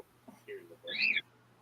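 A pet bird tries to talk, making a couple of short, muffled, voice-like chirps followed by a brighter high squawking whistle, close and fairly quiet in a calm room.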